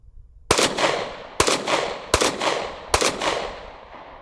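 A Ruger 5.7 pistol fires 5.7x28 40 grain rounds in four loud, sharp, close reports spaced under a second apart, each followed by a short ringing decay.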